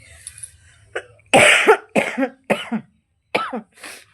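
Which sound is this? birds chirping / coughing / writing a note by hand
coughing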